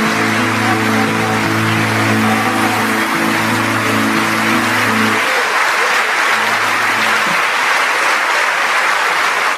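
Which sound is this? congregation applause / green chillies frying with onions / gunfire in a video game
congregation applause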